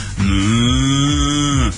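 A human voice imitates a cow mooing, one long sustained low moo with a slight wobble, loud and close, with no other sound around it.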